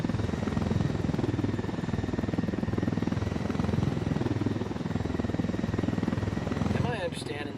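A helicopter in the video game Ghost Recon: Wildlands thumps loudly and continuously with rapid rotor chop, close and dominant throughout, with a brief electronic chirp near the end.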